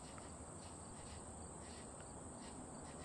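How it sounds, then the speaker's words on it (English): Cicadas in a dark night scene of a scary video game drone in a steady, high, continuous buzz, with faint pulsing and a low background hum beneath, and no voices. "Them cicadas is going crazy."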